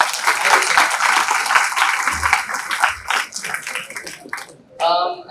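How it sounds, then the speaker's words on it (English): An orientation-day audience in a campus hall gives a round of clapping that fades out after a few seconds, followed by a speaker beginning to talk. "A round of applause for all the speakers here."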